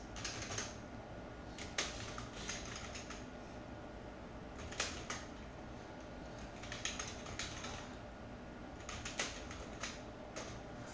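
Quiet typing on a computer keyboard, scattered bursts of soft key clicks with pauses between them over a faint background hum.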